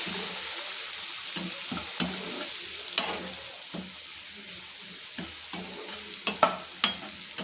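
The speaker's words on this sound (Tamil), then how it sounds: "வெங்காயம் நல்லா வதங்கட்டும்" A steady sizzle of onions frying in a pan for potato kurma, with occasional scrapes and clinks of a spoon stirring, close by and fairly quiet.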